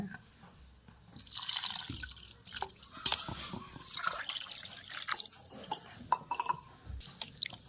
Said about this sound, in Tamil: இந்த டம்ளருக்கு அஞ்சு டம்ளர் தண்ணி ஊற்றிடுங்க